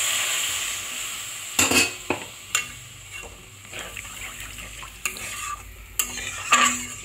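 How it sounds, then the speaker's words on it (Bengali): Masala for egg curry sizzling in a pan as water is poured in, with several sharp stirring scrapes and clinks of a spoon over a steady hiss; close and fairly loud, no talking. "এবার আমি এর মধ্যে জল দিয়ে দেবো।"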